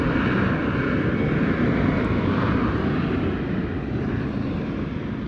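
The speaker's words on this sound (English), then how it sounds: "I think I've only seen one plane take off" A plane taking off, heard as a steady, loud broadband engine roar that holds evenly throughout, with no talking.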